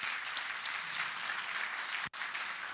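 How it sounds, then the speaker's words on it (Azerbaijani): Audience applauding a teacher at a class concert, dense continuous clapping from a full room, loud and steady with a momentary cut near the end. "Faiq müəllimə bir alqışlar gəlsin"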